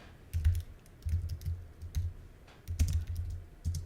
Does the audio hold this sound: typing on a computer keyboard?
yes